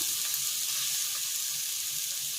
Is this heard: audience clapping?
no